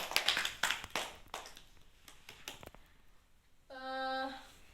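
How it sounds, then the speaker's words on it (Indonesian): Children in a classroom clap together, a burst of sharp claps that thins into scattered, fading ones, followed by a short tonal chime. "tepuk tangan untuk kita semua karena telah mengikuti pembelajaran dengan tertib"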